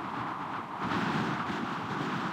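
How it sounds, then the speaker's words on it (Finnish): Strong wind roaring across open lake ice during ice fishing for bream at Savilahti, a steady loud broadband rush that swells midway and continues without pause. "kun tuo pauhaa tuuli noin kovasti"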